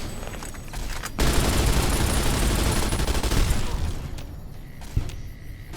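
Sustained automatic machine gun fire in Fallout New Vegas roars loud and close for several seconds, then cuts off, leaving a few scattered single shots afterward.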